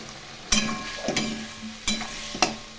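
Vegetables with spices, salt and turmeric fry in a pan for a Bengali rui fish curry with potato and eggplant. A steady close sizzle is broken by four sharp scraping spatula strokes at uneven intervals.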